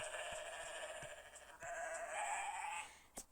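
Sheep in the pixel sandbox game WorldBox bleating softly, with a sustained wavering bleat tone and a few faint clicks, fairly quiet and continuous, with no talking.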